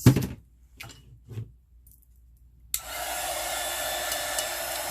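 A few soft knocks and thuds give way to a heat tool switching on for drying craft paint, its steady whooshing blow running loud and close to the end.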